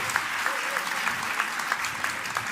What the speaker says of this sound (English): So please welcome Sébastien Faye with a big round of applause.